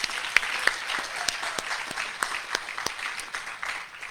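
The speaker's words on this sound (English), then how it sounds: "So another big round of applause for all of our area leaders." Applause at a guide dog graduation ceremony: a crowd claps steadily at a modest distance, with a few sharper individual claps and faint cheers standing out.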